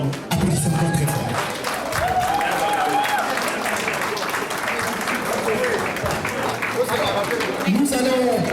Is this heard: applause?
yes